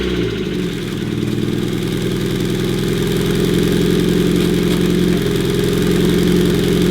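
A Mazda Miata fitted with BC Racing coilovers pulls away, its engine note rising briefly at the start, then settling into a steady, close, mid-pitched hum without speech.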